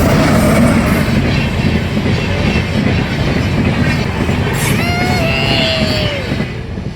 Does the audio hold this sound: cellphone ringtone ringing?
no